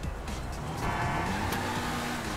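A sports car engine revving in GTA V, a loud, steady motor roar with slight pitch movement over a couple of seconds, no voices present.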